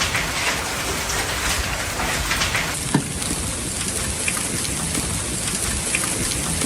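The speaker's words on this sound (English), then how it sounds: "The sound of thunder rumbled incessantly for hours" Steady heavy rain hisses throughout a stormy night in North Texas, with a sharp crack near the middle and a dull rumble beneath; no voices.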